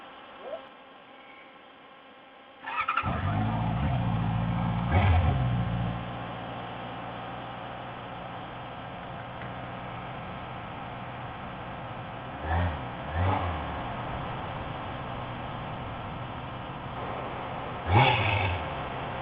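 A 2019 Honda CB650R motorcycle engine starts up and hums steadily while riding, with several brief rev bursts, heard through a muffled, low-fidelity recording.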